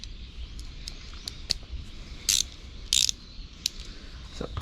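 A hand ratchet loosens 8 mm bolts on a Suzuki SV650 motorcycle, making close, crisp clicking bursts in irregular runs with short pauses between strokes.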